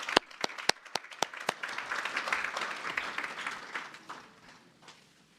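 Audience applause for a sponsor at a North American talent summit, a dense burst of many hands with a few sharp nearby claps at the start, swelling briefly and then fading out over about five seconds.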